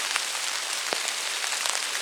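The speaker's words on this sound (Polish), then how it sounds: "No deszcz nie ustaje, nawet jeszcze coraz bardziej zaczyna padać" Steady rain falling in a forest, a dense even hiss of drops with a few closer patters, no voices.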